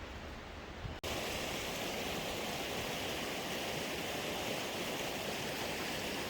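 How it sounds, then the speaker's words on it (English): A creek runs alongside a mountain trail in North Cascades National Park in June, and its loud, constant rushing fills the clip after a brief cut near the start, with no voices. "This section sort of runs along the creek"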